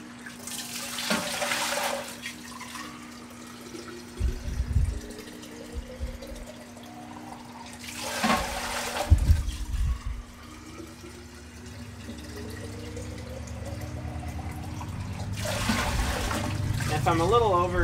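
Water running into a half-gallon jar while measuring water for homebrew, three separate bursts of splashing flow rising in pitch as the jar fills, with talk in between.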